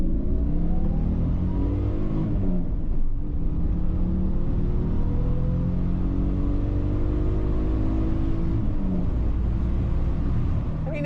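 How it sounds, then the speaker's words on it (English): A Toyota grand tourer accelerating, its engine growling at low revs and climbing in pitch through the gears, loud and close with a steady rumbling undertone. "the little growl at lower revs when you put your foot down"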